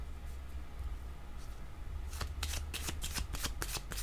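Fortune-telling cards shuffled by hand close up, a quick series of crisp riffling bursts over a low steady background hum.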